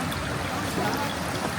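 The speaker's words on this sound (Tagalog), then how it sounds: "may nature spring dito" Natural spring water running steadily on a mountain hike trail at Mt. Mariglem, a continuous close rushing trickle with no pauses.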